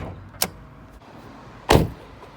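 A car's hood is released and lifted before a jump start from a portable power bank, heard as a faint click followed by a louder close thunk of the latch and panel.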